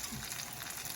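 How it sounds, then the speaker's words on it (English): A spoon stirring grits in a pot on the stove gives a steady, close, grainy scraping and bubbling hiss with no speech. "you just keep stirring it so it doesn't clump up"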